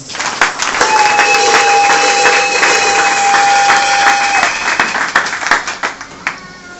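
A church congregation applauds the Lord in dense, sustained clapping that holds for several seconds, with a high sustained tone riding over it, before thinning into scattered claps.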